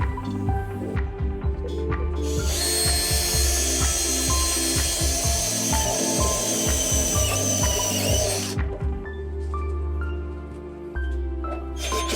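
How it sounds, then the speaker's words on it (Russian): An electric drill with a step drill bit whirs and bites through material, boring a hole for a high-frequency connector on a satellite spiral antenna, with a harsh grinding stretch in the middle and motor hum before and after. "Для начала сверлим отверстие для высокочастотного разъема."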